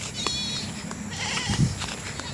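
A few Anglo-Nubian goat bleats, thin and somewhat distant, rise over steady outdoor background noise.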